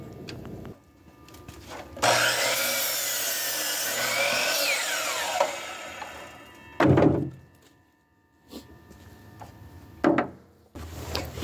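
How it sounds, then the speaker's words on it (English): A saw blade cuts slab wood for firewood in loud, bright bursts, one long cut followed by shorter grinding passes, with thuds and pauses between them. "this is the blade I use when I am just cutting up the slab wood"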